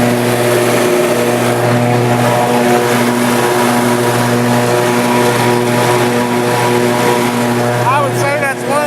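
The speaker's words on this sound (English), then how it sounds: "let's start her up and see if my blade change works" An Ariens IKON XL 52 zero turn mower engine runs steadily and loudly at close range, a constant droning hum with a strong low tone that holds for the whole stretch, with no talking.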